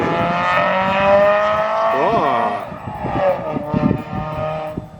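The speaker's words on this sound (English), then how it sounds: "someone's driving" A car drives past at close range, its engine note rising then falling with a brief squealing whine midway, followed by lower rumbling as it moves away; a voice talks faintly over it.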